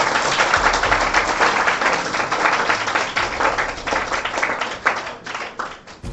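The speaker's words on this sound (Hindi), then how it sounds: "सबसे पहले मिस्टर अमानुल्लाह के लिए एक बार जोरदार ताली होना" A room full of people clapping steadily and loudly for a topper student, a dense continuous round of applause that slowly thins toward the end.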